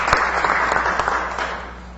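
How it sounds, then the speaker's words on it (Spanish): An audience at a televised political event applauds, a loud, dense wash of clapping that starts strong and slowly fades over two seconds. "Aquí vamos a darle un aplauso a Néstor Kirchner, a la UNASUR"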